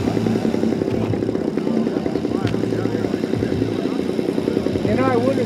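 A giant-scale yellow RC AT-6 Texan model plane with a Saito 450 radial engine flies near Lake Michigan. Its engine drones steadily with shifting pitch, and people talk nearby.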